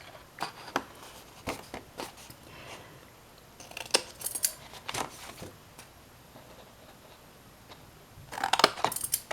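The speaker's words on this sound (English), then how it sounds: "go in on each little tab and just cut a slight little triangle" Scissors snipping small triangles into paper box tabs, a series of crisp, close cuts in irregular bursts with quiet pauses between them, busier toward the end.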